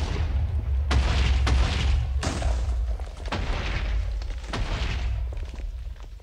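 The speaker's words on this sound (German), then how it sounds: "Yay. Explosionen." Deep booming blasts go off in a Minecraft game, several heavy explosions in quick succession with sharp onsets and rumbling low tails, loud and close, with no voices over them.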